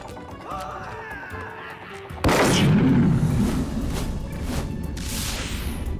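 A bomb shot striking a bomb icon in the physics-destruction game Wreckateer sets off a sudden loud, booming explosion partway through, its rumble and debris noise trailing off under quieter game sounds.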